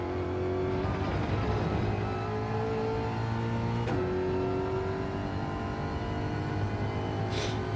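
Group 4 race car engine droning steadily at high revs in Gran Turismo 7 at Bathurst, a loud continuous tone with a brief shift-like dip midway and no talking.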